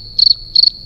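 Two crisp, shrill cricket chirps used as a sound effect, each a quick pulsing trill, loud and close over near silence.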